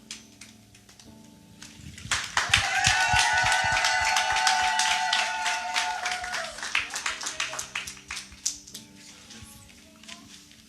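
A church congregation applauds after a baptism, a burst of clapping that swells for several seconds and then thins into scattered claps, with sustained instrumental tones ringing underneath.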